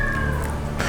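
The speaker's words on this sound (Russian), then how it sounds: "купили ребенку котенка, но котенка не выпускают, держат его в мешке с дыркой" A kitten meows from inside a bag with a hole in it: a single loud, drawn-out cry, close by, filling the whole moment.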